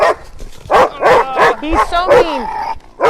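A dog at an animal rescue and sanctuary barks and yips in a quick series of loud, close bursts with a few whimpery notes, while a person talks over it.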